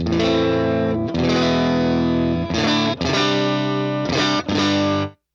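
Electric guitar through the vibrato channel of a UAFX Ruby amp pedal, playing loud sustained chords and riffs with a warm, slightly driven amp tone, broken by brief pauses, close and dominant.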